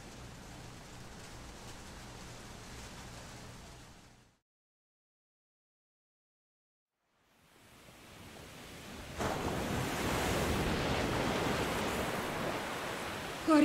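Ocean waves in the video game The Flower Collectors make a broad, hissing wash of surf. It fades out into a few seconds of silence, then swells back louder and rougher, with no voices.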